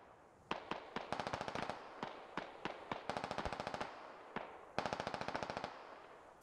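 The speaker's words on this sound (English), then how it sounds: "Fulcrum's crew is going to attempt to provide long-distance covering fire, or suppressive fire" Distant suppressive machine-gun fire in a military video game comes in repeated short rapid bursts and longer strings of shots, faint and far off but crisp, with brief gaps between volleys.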